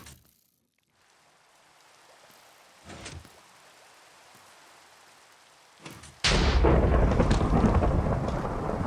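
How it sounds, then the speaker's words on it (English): A Minecraft thunderstorm: a quiet stretch of soft rain with a couple of brief cracks, then a loud thunder crash bursts in and rolls on into a heavy, sustained rumble. "And finally, a lightning storm struck"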